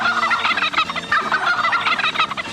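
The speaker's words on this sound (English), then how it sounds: "When you hear the turkey gobble" Turkey gobble sound effect played on a Thanksgiving radio promotion, a loud, rapid warbling gobble that runs throughout the short clip with no talking.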